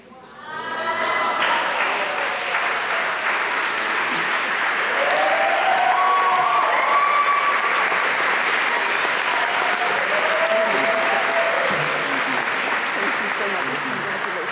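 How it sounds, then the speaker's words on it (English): An award ceremony audience, the 2019 ODK Leadership Awards, breaks into loud, sustained applause that swells quickly and holds for many seconds, with a voice briefly audible over the clapping. "give all of our award recipients another round of applause"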